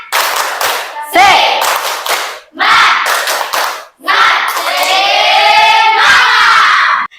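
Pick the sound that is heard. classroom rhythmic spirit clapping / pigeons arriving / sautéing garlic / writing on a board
classroom rhythmic spirit clapping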